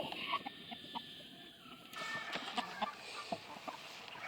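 White Polish chicken siblings clucking at close range, a run of short, irregular calls overlapping one another against steady barnyard background noise, with no talking.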